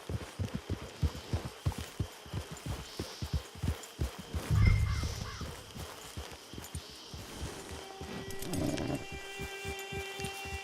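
Horse hooves clip-clopping at a steady trot in Red Dead Redemption 2 free roam: regular, close hoofbeats run throughout, with a brief snort or whinny partway and faint game ambience and chimes near the end.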